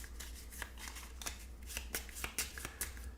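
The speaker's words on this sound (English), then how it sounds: "I don't think we've shuffled this deck yet" A deck of cards for the Escape From 100 Million BC board game being shuffled by hand, a run of crisp riffles and snaps close up against a low steady hum, with no speech.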